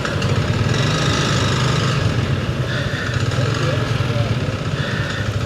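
A Yamaha Vixion motorcycle engine running badly while low on oil, a steady rough mid-pitched drone with a rattly, uneven texture that continues loudly throughout, heard close up while riding.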